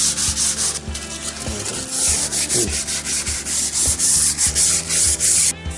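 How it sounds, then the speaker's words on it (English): Sandpaper rubbed back and forth over a dried paint patch on a shelf, a close, loud, rhythmic rasping with regular strokes about every half second, no voices. "we can take our sandpaper, start to sand it down, make it a nice, even, smooth surface"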